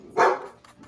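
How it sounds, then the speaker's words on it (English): A dog barks once, sharp and fairly close, at a neighbor passing by, followed by faint trailing yips. "excuse the dogs, a neighbor's passing by."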